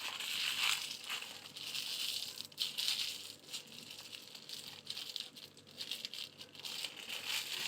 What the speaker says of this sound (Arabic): البتنجانيه هتطلع والقشر هو اللي هيستنى معايا في الكيس من جوه.